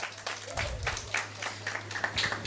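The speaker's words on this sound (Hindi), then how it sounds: "जोरदार तालियों के साथ स्वागत कीजिए" An audience at an indoor seminar claps to welcome the speaker, a faint, brief patter of scattered hand claps at moderate distance, with no voices over it.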